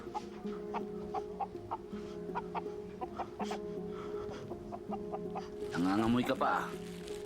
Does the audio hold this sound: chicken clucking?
yes